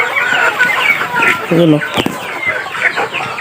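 A flock of Darag native chickens of mixed ages cluck and squawk busily nearby, overlapping calls with a brief pulsing cackle, while a person talks over them.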